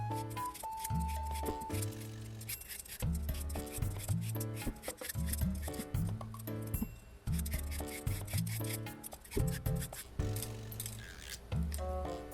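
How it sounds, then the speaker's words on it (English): A hand peeler shreds daikon radish into strips for garnish, giving rhythmic rasping scrapes in repeated strokes, close and fairly quiet, with brief pauses between passes. "She's using a peeler for shredding."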